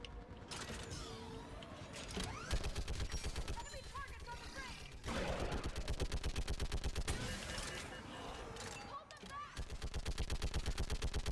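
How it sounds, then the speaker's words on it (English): Turret gunfire in the video game Mass Effect 3, fired from a mounted gun at enemy targets on a bridge: sustained rapid automatic bursts with mechanical clatter, loud and near, with a few brief pauses between long strings of shots. "I love me a good turret."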